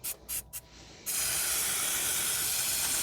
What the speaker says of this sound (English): we're going to spray it down with some brake cleaner